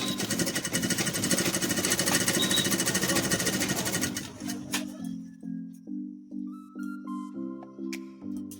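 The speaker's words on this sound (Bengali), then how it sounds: "এরকমভাবে পুরোটা সেলাই করবে।" A sewing machine stitches a lungi at close range: a fast, continuous mechanical whirr for about four seconds, then a run of slower, evenly spaced humming bursts.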